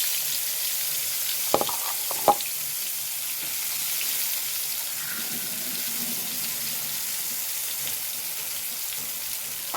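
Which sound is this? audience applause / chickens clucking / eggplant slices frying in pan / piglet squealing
eggplant slices frying in pan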